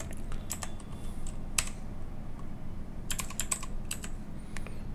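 Keystrokes tapped on a computer keyboard while an ID is entered, in small irregular bursts of light clicks over a steady low background hum, with no talking.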